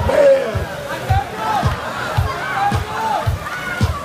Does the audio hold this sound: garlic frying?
no